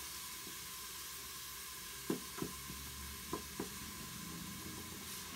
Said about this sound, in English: we're going to just let this saute for 2 or 3 minutes in that cooking oil